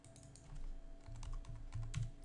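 Fast computer keyboard typing, a steady patter of close key clicks with no voices over it.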